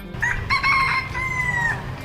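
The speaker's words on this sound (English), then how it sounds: "see several hundred wild chickens just clucking around" A wild rooster in Fitzgerald, Georgia's historic downtown crows loudly and close, one drawn-out cock-a-doodle-doo with a stuttering start and long tapering call, over faint ambient hum.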